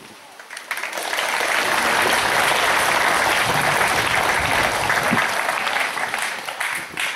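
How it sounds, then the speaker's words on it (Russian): Sustained audience applause at a Guinness World Records show, a dense wash of clapping that swells in after a brief start, holds steady and loud for several seconds, then eases slightly at the end. "Я кланяюсь вашим аплодисментам."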